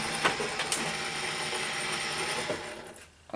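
A die-cutting machine feeds a Heartfelt Creations 3D leafy accents shaping mold through its rollers, giving a steady mechanical grinding and ratcheting hum with a couple of small clicks, close and moderately quiet, with no voices.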